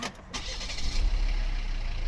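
A Volvo car engine turns over and settles into a steady low idle, fairly close and moderately loud.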